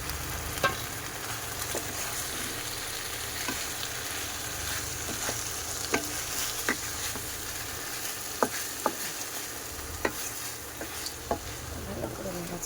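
Spice paste sizzles and fries steadily in a pan for rohu fish in mustard curry, with sharp scattered clicks and taps of a spatula stirring throughout and no voices.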